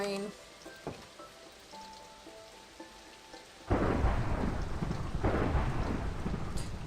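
A Minecraft thunderstorm: light rain patters at first, then a loud rolling thunderclap breaks in midway and rumbles on over heavy, steady rainfall.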